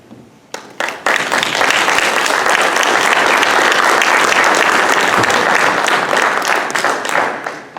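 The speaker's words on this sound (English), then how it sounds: "Thank you for your applause for the three candidates." Audience at a community candidates forum in Almaden, Santa Clara County applauds the three candidates, a dense sustained burst of many hands that swells quickly after a few early claps and tapers near the end.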